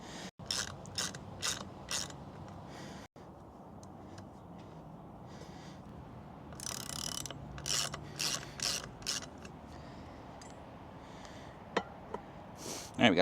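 A ratchet spins bolts out of the brake rotor on the front wheel of a Honda Shadow 750, giving several bursts of fast, crisp clicking close by with short pauses between them and no talk.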